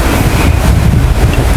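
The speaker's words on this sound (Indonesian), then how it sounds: "angin cukup besar" Strong wind buffets the microphone outdoors at an airgun test, a loud, constant rumbling roar with no break across the short stretch.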